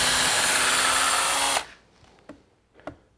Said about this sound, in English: I don't know how deep that drill is.